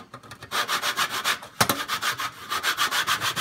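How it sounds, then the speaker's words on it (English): Nutmeg rubbed against a grater for cornmeal porridge, a steady run of quick rhythmic rasping strokes, close and fairly loud, with one sharper knock partway through and no talking. "So I'm gonna grate some nutmeg"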